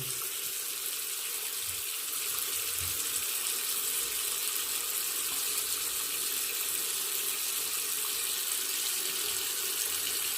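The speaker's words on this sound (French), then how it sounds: "Je vais rouvrir mon évier. Et je vais voir si ça s'écoule." Water drains from a bathroom sink just after unclogging, a steady, continuous rushing and trickling flow heard close by and at an even level throughout.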